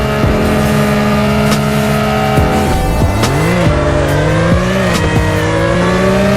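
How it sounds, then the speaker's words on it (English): A car in the Car Dealership Tycoon video game accelerates hard, its engine whine climbing in pitch through repeated gear shifts while tires squeal, loud and close with no talking. "Let's see acceleration on this car."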